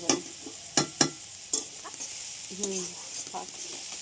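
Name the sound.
stirring food frying in a pan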